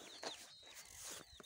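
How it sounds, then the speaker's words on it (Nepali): Chickens and their chicks cluck and peep softly nearby, a few short, faint calls scattered over a quiet background. "यसरी कुखुराहरू कति राम्रोसँग खेलेको छ चल्लाहरू"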